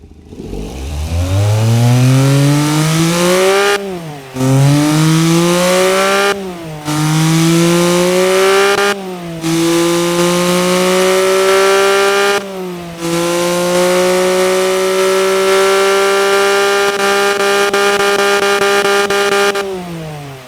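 A loud 280 horsepower 1.6 liter three-cylinder turbo engine revs repeatedly, each rising howl climbing in pitch, cutting off briefly, then surging again in a series of close, sustained pulls.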